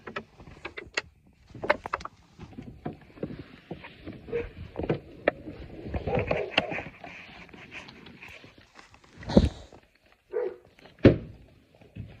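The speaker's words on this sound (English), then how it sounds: "You hear my freaking dog, bro?" A dog barks in scattered bursts, some sharp and loud, others muffled, with thumps and quiet movement between them.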